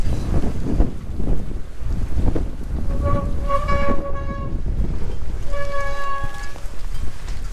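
Strong wind buffets the microphone in a continuous low roar, with faint tonal whistling rising midway and again near the end.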